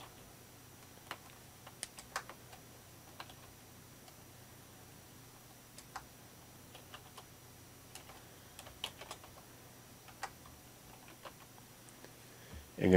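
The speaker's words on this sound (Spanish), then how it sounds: "pulsa espacio o barra espaciadora para dejar espacio entre ambas" Scattered, quiet key presses on a computer keyboard while entering text in music notation software: isolated clicks and short bursts over a faint background hum, ending with a louder knock.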